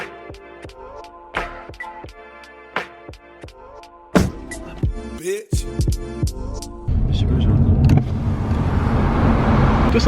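A Mercedes CLA on the road, its engine and road noise steady beneath a series of sharp clicks and knocks, rising to a louder continuous rush in the last few seconds.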